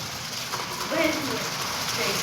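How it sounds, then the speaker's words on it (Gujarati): Hail and rain hammer down together in a dense, steady roar during a storm, with a voice faintly under the downpour. "કરા હાલ તક વરસાદની અંદર આવી રહ્યા છે કરા"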